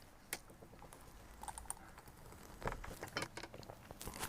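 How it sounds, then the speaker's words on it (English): A blade cuts lengthwise down the jacket of a 96 count fiber optic cable at a mid-span, producing faint, close, irregular scraping and ticking strokes that grow a little busier toward the end. "cut long ways down the cable."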